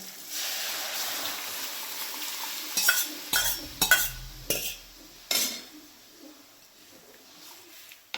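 Boiled dal is poured into softened tomatoes in a hot pan, with steady sizzling, then a few sharp clanks and scrapes of a spoon against metal before the frying quiets to a low simmer.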